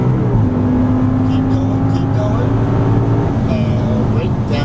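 An Audi R8 V10 on a racing circuit accelerates hard out of a turn, its engine note climbing steadily, then drops briefly on an upshift and climbs again, heard from inside the car under an instructor's coaching.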